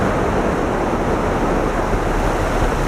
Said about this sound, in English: Right down below me, that's where the waterfall is.